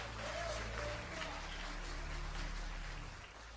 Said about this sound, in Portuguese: tome o seu assento aplaudindo a Jesus